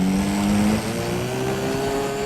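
A radio-controlled model airplane engine runs loud and steady during takeoff, its high droning pitch rising gradually as the plane climbs away, with no voices over it.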